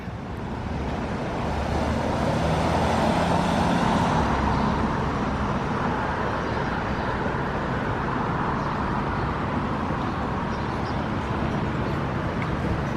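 Light early-morning street traffic on Ocean Boulevard in Myrtle Beach makes a steady, moderately distant roadway wash of passing cars with a breezy hiss, and no prominent single vehicle stands out.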